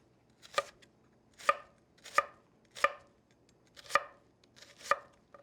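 A knife slices onions thinly on a cutting board for caramelized onions: six crisp, evenly spaced chops sound close and clear, each cut alone with quiet pauses between.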